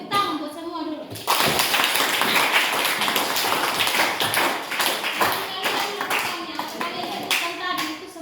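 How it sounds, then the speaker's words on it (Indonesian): A class of children claps together in a classroom, a loud burst of many hands that starts abruptly after a moment of talk and keeps a busy, slightly rhythmic patter before thinning out toward the end. "Tepuk tangan buat semua dulu"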